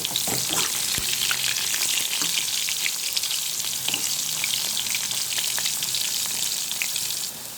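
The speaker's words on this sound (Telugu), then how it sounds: "చక్కగా కలర్ చేంజ్ అయ్యేలాగా ఫ్రై చేసుకోవాలి." Lightly peeled bitter gourd pieces fry in hot oil for a spicy stir-fry, with a loud, dense, continuous sizzle and occasional crackles and stirring knocks close by.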